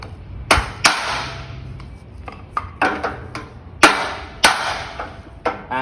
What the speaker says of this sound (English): hammer and block of wood.